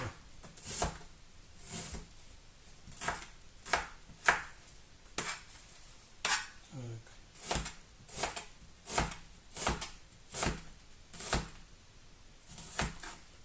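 A knife chops large onions on a board in steady, repeated sharp thuds, close and fairly quiet, with brief pauses between runs of cuts.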